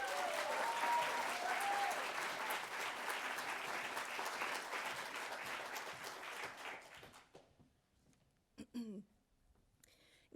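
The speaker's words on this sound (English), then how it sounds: "please join me in giving a warm round of applause" Warm applause at a college awards ceremony, a dense roomful of clapping that holds steady for several seconds, then fades and dies out into near silence broken by a few thumps and a voice.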